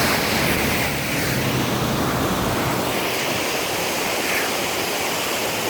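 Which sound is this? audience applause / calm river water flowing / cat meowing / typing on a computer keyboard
calm river water flowing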